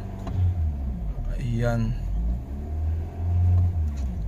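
A 2018 automatic Kia Picanto with a check-engine fault and misfire revs in a low, uneven rumble that rises and falls, with someone talking over the engine.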